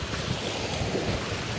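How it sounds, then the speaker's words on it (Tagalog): Waves wash onto the beach at Balayan, Batangas, in a steady, loud, broadband rush of surf mixed with wind buffeting the microphone, with no pauses and no voices. "tunog nung hampas ng tubig sa talampasigan"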